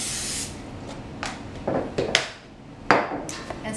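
Short bursts of cooking spray hit a 9 by 13 inch baking pan, several quick hissy spurts at close range with small clinks of the pan between them, alone with no voices.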